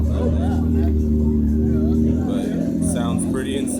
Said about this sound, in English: I don't know if you guys can hear the exhaust going off that thing.